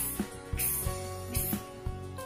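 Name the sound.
voice imitating scissors cutting hair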